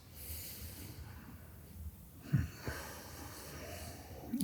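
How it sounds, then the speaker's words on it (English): Slow, close Ujjayi yoga breathing with a slight throat restriction gives a soft hissing breath, with one sharper nasal snort-like inhale midway and a faint breath at the end. "We're going to engage our Ujjayi breath, so a slight restriction in the back of the throat, hearing the hissing sound."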